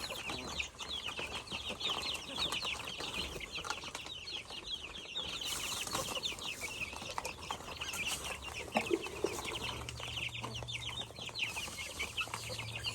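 Crossbred Shamo and Rhode Island Red chickens cluck and chatter steadily in a farmyard, with occasional wing flaps and soft background noise, no talking.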